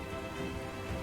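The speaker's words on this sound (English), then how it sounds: "The rain is getting heavier due to the Plesiosaurus being agitated" Steady rain ambience plays as a sound effect during a tabletop role-playing session, a soft, even wash of falling rain with no voices over it.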